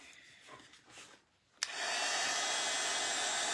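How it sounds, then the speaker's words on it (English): A small handheld heat tool used for drying a spring craft project, clicking on after a quiet moment and then blowing a steady, loud whir close by. "Where's my little heat tool?"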